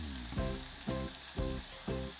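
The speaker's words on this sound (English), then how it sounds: "when the oil is hot and you put the scallions in to make the scallion oil" Scallions sizzling in hot oil in a pan, a bright hissing crackle close by, pulsing in a few regular surges as the pieces spit, with no voices.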